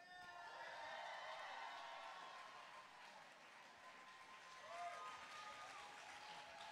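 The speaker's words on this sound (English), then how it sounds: "Please welcome, with a big queer round of applause, Masha Gessen." An audience applauds to welcome a speaker to the stage, sustained clapping from a crowd that swells and fades slightly, heard from a distance with some faint cheering.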